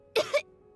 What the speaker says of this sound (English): He kept coughing all the time, just like me.